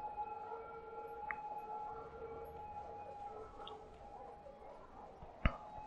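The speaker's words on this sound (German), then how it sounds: "Überall ist Gejaule von der Sirene." Emergency vehicle sirens wail faintly in Cities: Skylines traffic, steady tones holding over a dense background hum with a couple of brief sharp blips.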